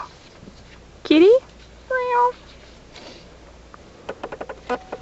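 A cat meows twice close by, first a rising cry and then a longer steady call, followed by light tapping and rustling, with people talking in the room.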